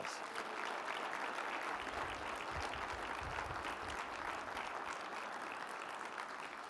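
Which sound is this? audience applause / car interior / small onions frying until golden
audience applause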